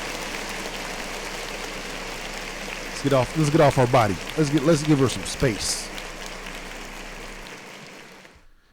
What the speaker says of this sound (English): Clap it up for SZA one more time.